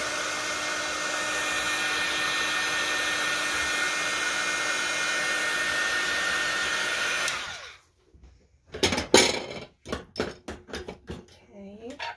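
A hair dryer runs steadily for about seven seconds, drying paper glued onto a cereal box junk journal cover, then clicks off, followed by soft handling noises and brief talk.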